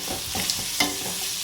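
Onions sautéing with rock salt in a pan, a soft continuous sizzle broken by a few scrapes and stirring knocks of a utensil, close and without speech.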